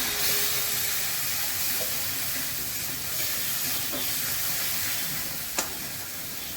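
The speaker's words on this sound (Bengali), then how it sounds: "এবার মশলাটা কষানো হচ্ছে, তো আরেকটু কষবে।" Ground spices with turmeric, chili, cumin, coriander and salt being fried in a pan for masala rui fish, giving a steady close sizzle and hiss throughout with a faint clink near the end.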